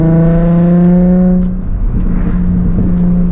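A loud Nissan 350Z with a backfire exhaust tune screams at high revs for over a second, then falls into a throaty, crackling idle punctuated by sharp pops, heard up close.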